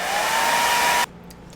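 Close, loud whine of a hair dryer blowing on foam, steady for about a second before it cuts off abruptly into near silence.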